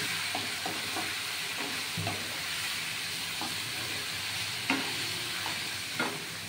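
Steady sizzling of a spice paste frying over medium heat in a pan for a bhetki fish gravy, with occasional light stirring scrapes and small pops throughout.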